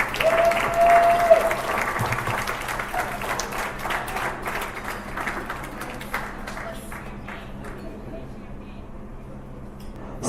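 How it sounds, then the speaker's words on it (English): Wedding reception guests applaud the best man with a big round of clapping that runs strong for several seconds, then thins out and fades to scattered claps. "How about a big round of applause for the best man,"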